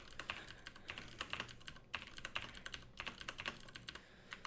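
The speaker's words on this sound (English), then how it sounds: "the keyboard noise is probably audible, but a lot more quiet than it actually is" Fingers type on a computer keyboard picked up by a directional microphone in front of it: quick, uneven bursts of small clicks with short pauses, faint and close, with no voices.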